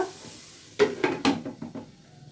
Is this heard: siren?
no